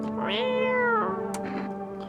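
A single loud, drawn-out cat meow in the video game No, I'm Not a Human, close up and clear, wavering in pitch before trailing off.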